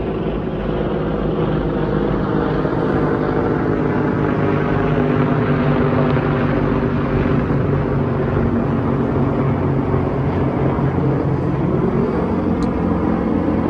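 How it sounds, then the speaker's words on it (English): Aircraft passing overhead outdoors, a steady broad engine drone that holds at an even level throughout, with no talk over it. "They got some aircraft going over."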